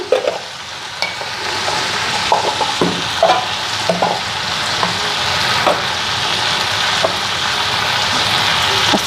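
Pieces of food fried in a pan with salt and turmeric give a loud, continuous sizzle close by, broken by scattered clinks and scrapes of a utensil stirring, with no talk.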